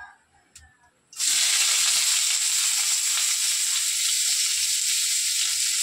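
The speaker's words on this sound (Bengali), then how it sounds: "তেল গরম হয়ে গেছে, আমি কিন্তু এখান থেকে এই কুচিগুলো দিয়ে দেবো" Shreds of dough for jhuri drop into hot oil after a quiet moment, and a loud, dense sizzle bursts up and continues steadily to the end.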